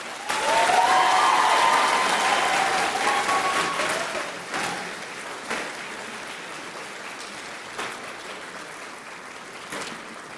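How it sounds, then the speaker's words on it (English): A graduation ceremony audience at Aston University gives a loud, rousing round of applause that swells at the start, then gradually thins into scattered claps over about ten seconds. "Please give them a huge, rousing round of applause."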